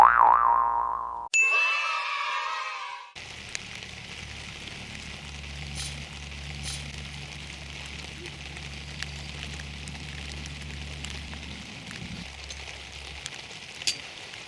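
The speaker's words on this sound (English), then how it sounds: "It's pissing down rain at the moment." Heavy rain pours steadily over a campsite at the back of a farm, a continuous close hiss with scattered drop ticks that follows a few seconds of brief tonal sounds at the start.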